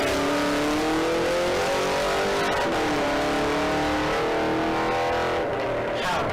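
Ford Falcon XR8 race car at a sprint event, its V8 engine loud and close as it accelerates hard, pitch climbing through gear changes with brief dips between shifts.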